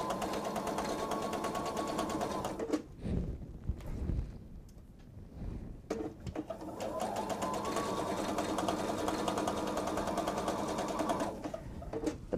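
A sewing machine stitches a travel tote bag in two long continuous runs. Between them comes a pause filled with handling noise and soft bumps.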